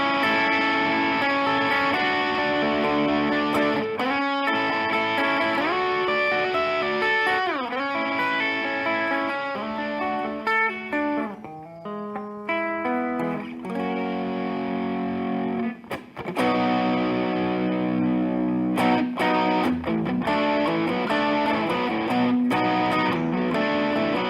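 Bass guitar runs through a T-Rex drive effects pedal blended with the clean tone, giving a warm, fuzzy, continuous line of sustained notes and slides at steady loudness.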